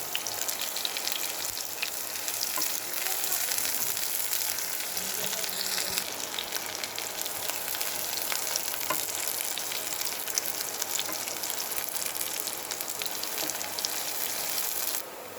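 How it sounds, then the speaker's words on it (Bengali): Ingredients frying in oil in a pan until browned, ahead of adding beto greens: a steady, close sizzle with fine crackle that holds evenly throughout with no talk over it. "এখন এগুলো আমি একটু বাদামি করে ভেজে তারপরে শাক মেশাবো।"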